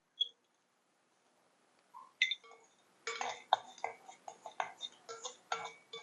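A lump of asafoetida clinks into a pan of oil, then bursts into a steady, close crackle of roasting in bursts, while a few light metallic taps come from the pan.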